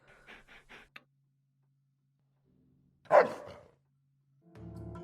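A half-feral dog in a Fallout video game mod gives one loud, close bark with a ragged growly edge, preceded by a few quiet ticking sounds and followed by low background rumbling.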